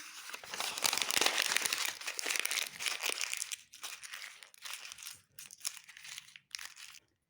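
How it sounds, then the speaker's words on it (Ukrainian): A large sheet of paper is crumpled by hand into a ball, with close, loud crackling that is busiest at first and then breaks into shorter crinkling bursts separated by brief pauses. "Давайте зімнемо у ручках великий аркуш."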